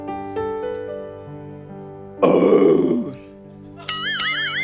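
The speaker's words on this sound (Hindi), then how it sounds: "ये मैंने जो लंच खाया उसकी डकार थी" A person lets out a single loud, drawn-out burp lasting nearly a second after eating lunch, set against sustained background music tones.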